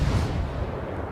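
A warship's heavy artillery salvo in World of Warships, one loud booming blast with a rumbling decay, heard alone at close range.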